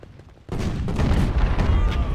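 Cannon fire in the American Civil War strategy game Ultimate General: Civil War, a sudden loud boom after a quiet start, followed by a sustained rumble of overlapping artillery blasts and battle noise.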